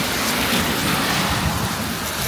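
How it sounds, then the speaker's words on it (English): Heavy rain pours steadily during a gale-force storm on Malaysia's coast, a dense, loud, continuous hiss with no voices. "And the rain's coming down."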